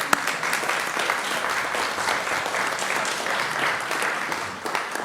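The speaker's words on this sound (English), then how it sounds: "we should all give a round of applause to all of our emergency responders" A city council meeting audience applauds its emergency responders, a sustained, even wash of many hands clapping indoors, continuous for several seconds and easing off near the end.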